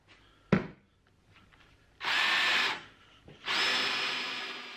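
A sharp knock, then two bursts of a power drill whirring and biting into wooden shelf uprights for dowel holes, the second run longer and trailing off slowly.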